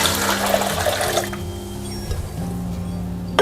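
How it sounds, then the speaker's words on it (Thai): Water pours steadily into a pot with a continuous rushing, splashing sound that briefly falters, then carries on before a final clink. "แล้วให้เราเตรียมหม้อแล้วเทน้ำลงไปเลยค่ะ"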